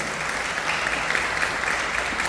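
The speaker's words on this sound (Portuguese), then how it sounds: "Vocês podem aplaudir o Senhor." A church congregation claps together in sustained applause, a loud, dense, unbroken wash of many hands with no voices standing out.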